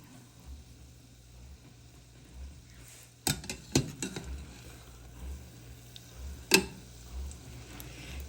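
Beignet dough dropped a few pieces at a time into hot oil, giving a soft, steady sizzle broken by sharp clinks of utensils against the pan.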